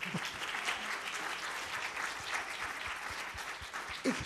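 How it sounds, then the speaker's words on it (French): Steady audience applause fills a French public debate hall as a speaker is welcomed, a dense continuous wash of many hands clapping at close-to-moderate distance for about four seconds. "je vous demande d'applaudir Dominique Volton."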